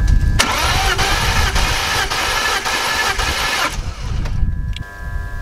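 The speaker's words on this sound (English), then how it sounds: "I'm gonna go crank the engine." A BMW E46 engine cranks over on the starter during a compression test, a loud rhythmic chugging of evenly spaced strokes that stops abruptly, followed by a short quieter tail.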